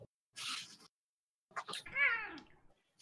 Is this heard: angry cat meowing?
yes